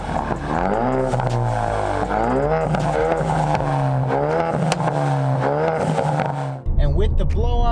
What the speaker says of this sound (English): you really got to hear the turbo spool up. You heard that blow-off valve sound as well when you let off the gas.